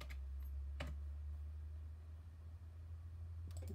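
Typing on a computer keyboard while a Linux Wi-Fi setup is configured, heard as brief clusters of quiet key clicks near the start and end over a steady low electrical hum.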